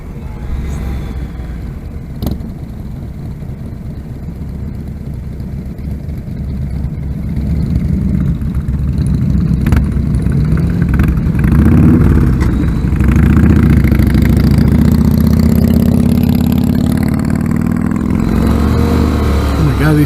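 Honda Hornet motorcycle fitted with carburetors heard while riding: a steady mid-pitched engine drone that builds and rises in intensity partway through and holds loud and close, with wind noise and a voice talking over it.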